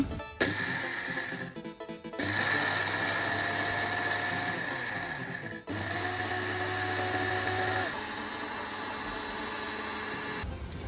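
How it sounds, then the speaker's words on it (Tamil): Electric kitchen grinder pulverising roasted leftover rice into fine powder, a steady loud whirring motor drone with brief stops and restarts around two, five and eight seconds, running alone without any talk. "இந்த சோறு வந்து கிரைண்டரில் போட்டு பவுடராக அரைக்க போகிறா"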